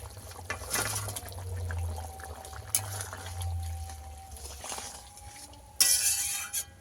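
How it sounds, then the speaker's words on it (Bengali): Fried snakehead fish pieces going into boiling gravy with potatoes and eggplant: continuous bubbling and liquid churning with soft clinks, then a sharper splashing burst near the end. "এবারে ভেজে রাখা মাছটা দিয়ে দেব।"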